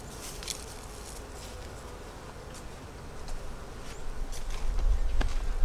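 Honeybees buzz steadily at an open hive in a bee yard, a soft continuous drone with individual bees passing close, growing louder toward the end.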